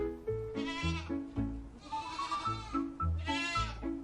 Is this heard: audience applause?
no